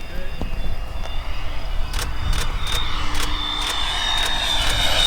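A homemade radio-controlled Citation M2 model jet flies at about 40% throttle, its steady turbine whine holding throughout with passing roar swells, while a person talks over it.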